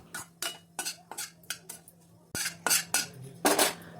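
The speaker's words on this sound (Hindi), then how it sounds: "धीमी आंच पे खोबरे को भून लेना है।" Metal spatula scraping and tapping in a pan as desiccated coconut roasts in ghee over low heat, heard as irregular close clinks and scrapes coming in quick bursts.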